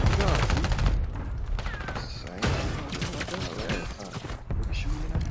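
Rapid bursts of automatic gunfire from Call of Duty on Rebirth Island, loud and dense, repeated in clusters across the clip with players talking over it.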